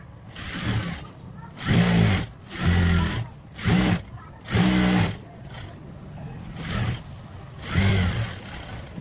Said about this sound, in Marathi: याच्या एका साईडला मी सरळ अशी शिलाई टाकून घेते बघा या पद्धतीने सरळ शिलाई टाकून घ्यायची आहे